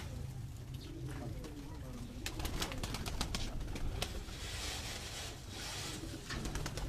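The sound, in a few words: pigeons cooing in loft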